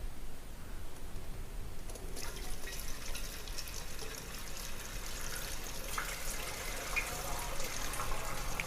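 Gasoline gushing from the disconnected fuel line of a Jupiter Z motorcycle, a faint continuous trickling, splashing stream that thickens slightly partway through, with no talk over it.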